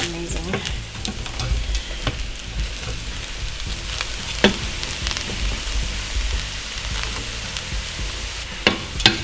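Spicy fried rice sizzles steadily in a pan while being stirred and mixed, with clattering utensil scrapes and occasional sharp knocks against the pan, loud and close with no talking.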